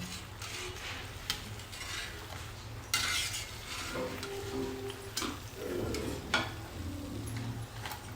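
Crispy methi farsi puri, made without maida, fries in hot oil with a soft, steady sizzle. Metal utensils clink and scrape sharply as the puris are lifted out onto a plate.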